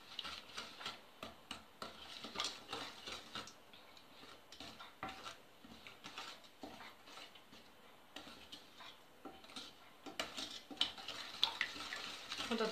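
A spoon stirs apple filling with cinnamon in a bowl, making close, irregular scraping and soft clicking strokes that continue steadily without any talk.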